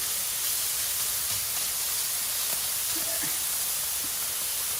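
Chorizo sizzles on a Blackstone flat-top griddle as a steady, even hiss with a few faint pops and ticks scattered through it.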